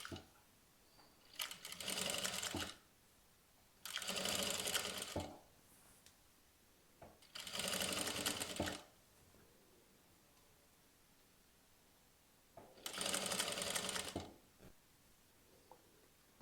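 Sewing machine stitching a 0.1 mm seam on a basic knit top, running in four separate bursts of about a second each with quiet pauses between, close and loud with no talk.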